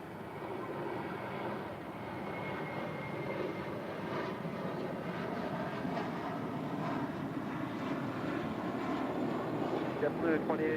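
A JetBlue Airbus A321 departs LAX with a sustained jet engine roar, fairly steady and moderately loud, building slightly toward the end.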